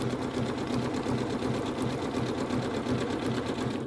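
A Janome sewing machine works a triple stitch with a circular attachment, its motor whirring in a fast, even, close rhythm of needle strokes that carries through the whole clip without any talking.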